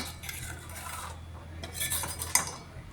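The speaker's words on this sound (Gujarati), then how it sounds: "કન્ટિન્યુઅસ હલાવવું જરૂરી છે, કેમ કે આપણે કોપરનું લીધેલું છે" Corn flour cooks in oil in a copper pan, stirred continuously with a metal spoon, giving a steady close scraping and rubbing with a few brighter clinks toward the end.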